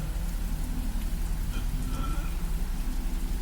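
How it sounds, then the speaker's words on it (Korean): Heavy rain pours down in a dense, steady hiss of countless drops, close and constant, with nothing else standing out. "천지에 쌀알이 쏟아지는 듯한 빗소리에 섞인"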